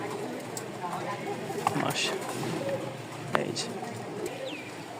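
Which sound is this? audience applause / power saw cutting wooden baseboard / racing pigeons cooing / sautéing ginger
racing pigeons cooing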